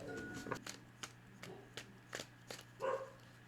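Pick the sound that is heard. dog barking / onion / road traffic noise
dog barking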